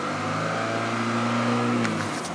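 A car engine idles steadily at 1,000 rpm with a low, even hum and harmonic drone, close by, with a faint brief rattle near the end.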